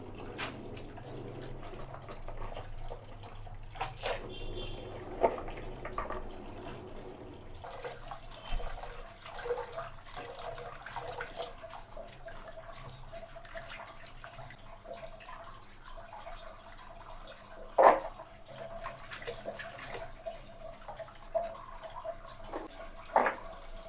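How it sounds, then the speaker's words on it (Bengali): Cut bitter gourd and other vegetables are rinsed under a running kitchen tap. The water is faint, with soft drips, splashes and a few sharper clinks spread through the clip. "এখন সবজিগুলো ধুয়ে নিলাম এক এক করে"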